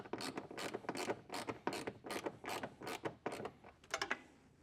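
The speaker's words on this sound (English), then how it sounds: "I'm just going to use my ratchet to get a little compression on the gasket." Hand ratchet clicking in quick repeated bursts while tightening the gasket on a Baldwin air filter housing, a dozen or so close, fairly loud ratcheting strokes with no talk over them.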